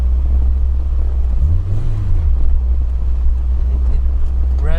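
A Peugeot 205 GTI's engine revs while driving, a loud, steady low drone from inside the cabin with a brief rising and falling swell of revs partway through, no voices.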